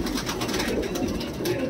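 Low, throaty cooing from a pair of Punjabi pigeons, a steady murmuring drone nearby with slight rises and falls.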